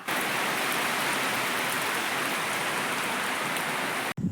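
Heavy rain pours down steadily, a dense, loud, unbroken hiss filling the scene before cutting off abruptly at the end.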